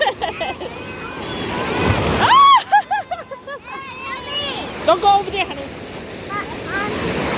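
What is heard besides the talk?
big waves breaking at Black Beach, Duluth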